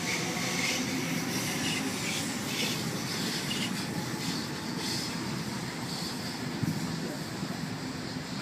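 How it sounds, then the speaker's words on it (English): A Sydney suburban train pulls away from a platform at Seven Hills on a Hornsby via Macquarie University service, giving a steady rumbling roll with faint wheel squeal, heard close and continuous. "A46 now departing, platform number 4, Hornsby via Macquarie University service."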